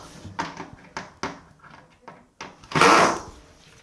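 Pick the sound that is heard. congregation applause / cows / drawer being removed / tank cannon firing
drawer being removed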